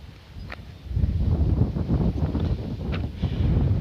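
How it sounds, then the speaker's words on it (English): Strong gusty headwind on the Florida Trail near Lake Okeechobee buffets the microphone, a low roaring rumble that swells after the first second and stays heavy and uneven, with no one talking. "Wind's pretty strong. I got a pretty strong headwind."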